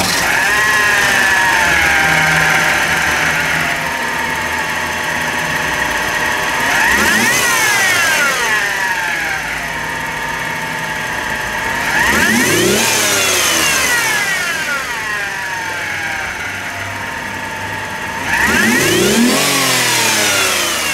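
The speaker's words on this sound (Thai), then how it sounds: "มาฟังเสียงเครื่องยนต์กัน" A Mercedes-Benz C230 V6 idles steadily up close, then revs hard three times in separate rising-and-falling bursts spaced several seconds apart, with no talk over it.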